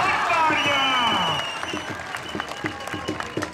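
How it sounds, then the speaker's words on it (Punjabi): Crowd applause at an open kabaddi tournament in Punjab, rhythmic clapping rising after an announcer's loud call over the public address, moderately near and steady. "ਹਾਂ ਤਾੜੀਆਂ"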